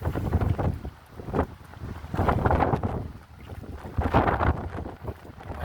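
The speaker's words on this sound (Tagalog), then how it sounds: "Lakas pa rin ang hangin." Strong wind off Carabao Island buffets the microphone in loud, rumbling gusts that swell and fade, with no talking.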